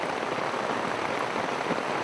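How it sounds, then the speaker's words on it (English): Dense, steady rain pours down in a constant loud hiss along a river in Guyana, without pauses or voices. "This is a pretty serious rain, I think,"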